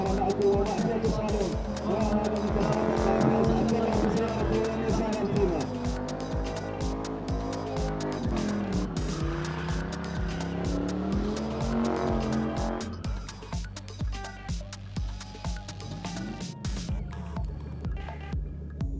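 A Nissan Altima skids around a skid pan with long wavering tire squeals over a droning engine, heard from a distance while a commentator talks over much of it.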